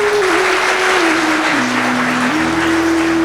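An audience claps continuously at an Independence Day and Janmashtami class gathering, dense, loud and steady throughout, with a sustained tone running underneath.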